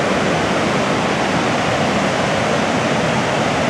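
Niagara Falls roaring in a loud, dense, unbroken rush of falling water, a broad steady wash of noise heard close with no voices over it.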